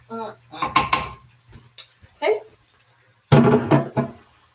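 A heat-resistant utensil scraping around the edges of a pan holding rice leftovers, a few close clinks and scrapes of metal cookware between bursts of a woman's speech.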